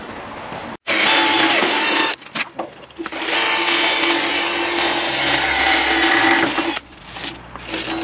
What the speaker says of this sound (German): So, ich habe jetzt 4 Löcher gebohrt.